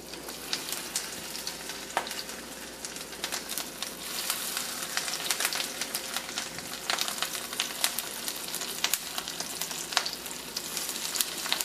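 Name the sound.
tuna cakes frying in a pan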